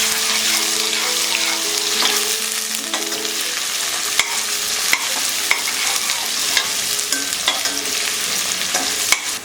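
Onions frying in a pan for an aloo hara chana sabji, stirred with a utensil: a loud, steady sizzle broken by repeated scraping strokes and soft clinks, with a faint tonal hum underneath.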